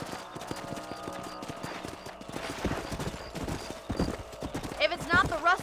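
Horse hooves clip-clop at a gallop in the Red Dead Redemption western video game, a steady rapid rhythm under game music, with a brief whinny-like sound near the end.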